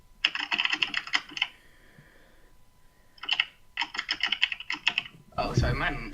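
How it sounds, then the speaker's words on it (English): Bursts of rapid clicking from a loud computer keyboard being typed on, in two clusters separated by a quiet gap, close and prominent, with a voice briefly heard near the end. "Sorry, my keyboard's so loud."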